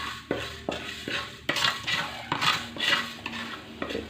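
Spices being dry-roasted in a pan, a utensil scraping and stirring in repeated strokes with light clinks against the metal and a faint background sizzle, close and steady with no voices.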